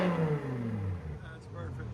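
A BMW V10 engine, either the 4.4L, 4.8L or 5.0L, sweeps through its revs close by, its loud tone falling away and then picking up again, while people talk over it.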